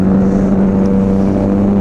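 A group of superbikes cruises along a mountain road, their engines giving a loud, steady drone with a constant hum throughout and no pauses.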